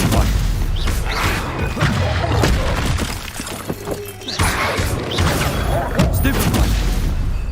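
Stupefy spells strike in the Hogwarts Legacy video game, a busy run of loud crashing, shattering impacts and booms throughout the combat, with a voice calling out over the noise.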